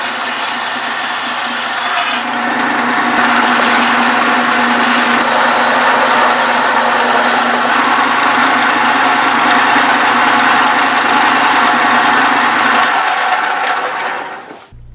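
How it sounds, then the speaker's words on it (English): A belt sander smooths a steel Roman gladius blade with a loud, continuous, close abrasive roar that holds steady for about fourteen seconds before winding down. "The belt sander helped smooth out the curves and take burrs off the edges."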